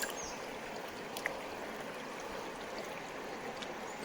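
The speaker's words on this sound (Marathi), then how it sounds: "धुवून घेतो तांदूळ चकाचक" Rice washed in water outdoors in a jungle gives a steady, soft swishing and trickling wash with a faint background of running water, continuous and near.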